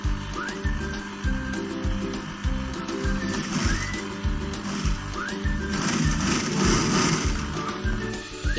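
A sewing machine stitching a purse runs in short, rhythmic mechanical bursts with a steady whirring pulse, stopping and starting close by.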